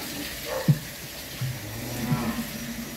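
Cattle moo at a cattle farm in Vinh Long: a few short, deep lowing calls, moderately close, spread across a few seconds over steady outdoor background noise.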